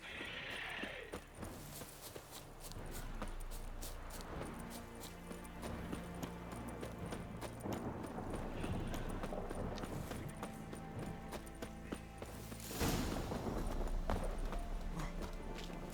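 Horse hooves clip-clop in The Witcher 3 video game, a faint steady walking beat mixed with game ambience and a brief burst of noise, no speech.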